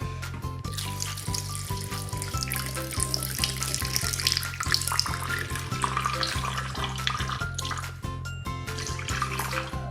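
Water poured into a pan for choux pastry dough, a steady running splash that continues throughout over rhythmic background music, with no speech.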